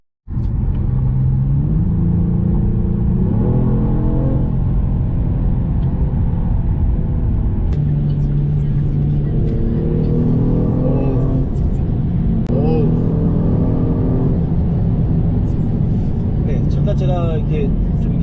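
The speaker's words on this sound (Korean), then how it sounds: "지금 스포츠 플러스 모드로 바꿨고요" A Genesis G70 3.3 turbo engine in Sport Plus mode hums and rises in pitch through repeated bursts of acceleration, loud and close, with a person talking over it.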